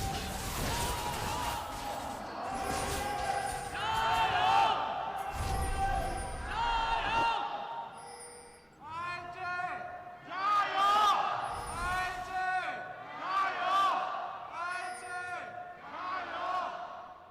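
Home crowd noise at an LPL esports match in Xi'an between Team WE and Invictus Gaming, a loud continuous roar with cheering swells and shouts, mixed with voices and arena sound throughout.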